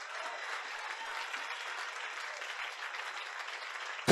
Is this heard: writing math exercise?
no